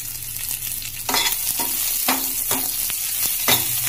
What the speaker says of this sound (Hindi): जीरा जैसे ही तड़क जाए आप अपना कटा हुआ प्याज इसमें डालिए।